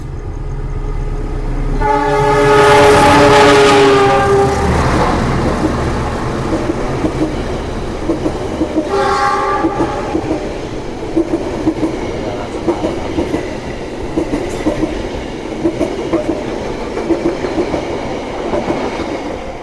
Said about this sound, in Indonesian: Kereta api Mutiara Selatan ya lur, relasinya dari Bandung menuju Surabaya Gubeng dengan rangkaian eksekutif dan ekonomi premium stainless steel